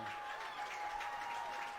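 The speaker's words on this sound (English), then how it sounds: "There's a little parent clap there." Scattered parents clap at a Friday night high school football game between North Andover and Lincoln Sudbury, a soft, distant patter of applause with faint crowd murmur.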